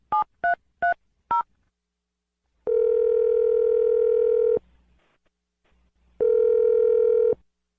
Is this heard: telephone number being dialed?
yes